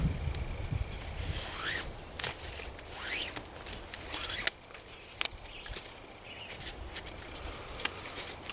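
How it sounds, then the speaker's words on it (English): A stick is cut while preparing a tripod lashing outdoors, heard as a few scraping, rasping strokes and sharp clicks close by, with rustling between cuts and no talk. "Cut a stick."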